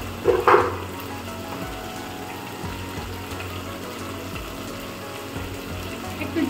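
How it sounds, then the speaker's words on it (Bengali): Cumin seeds hit hot oil in a pan with a brief sharp crackle at the start, then a steady low sizzle and hiss that carries on close by. "একটু জিরে দিয়ে দিলাম"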